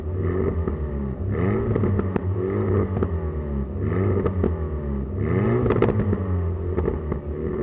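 Alpine A110 sports car with its exhaust flaps opened in sport mode, revving hard in repeated loud surges with rising and falling engine pitch and sharp exhaust crackles and pops between pulls, close and continuous.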